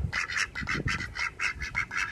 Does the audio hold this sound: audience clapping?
no